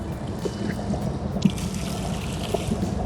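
Water and dirt poured into a gold sluice, a steady trickling, splashing flow with scattered small gritty knocks and drips, close and continuous, no talking.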